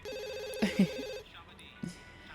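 Cartoonish telephone ring from The Sims 2 life-simulation game, a steady electronic trill lasting about a second, followed by a couple of soft game interface blips and clicks.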